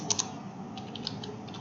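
A few light keystrokes on a computer keyboard as a command is entered in a terminal, quick soft clicks close to the microphone over a quiet room hum, with no speech.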